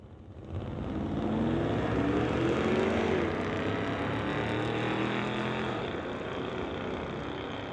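An orange 1980 K5 Blazer and a 1990 S10 packing an LS engine run side by side in a street-legal drag race, their loud engine roar swelling quickly and holding steady, then easing slightly.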